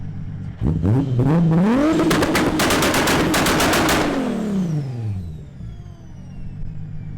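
A 700 hp Toyota Supra engine revs hard and climbs, then a rapid string of loud exhaust pops and bangs crackles as the revs fall away.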